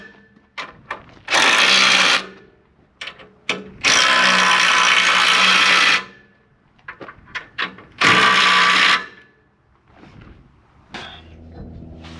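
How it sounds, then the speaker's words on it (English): An impact driver snugs nuts on excavator rock guards in three loud, rattling bursts of a second or two each, separated by quieter clicks and handling noises in a workshop. "So I'm just going to snug them up with my impact driver."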